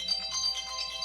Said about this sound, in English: Of course my phone would ring while I'm on a live, right?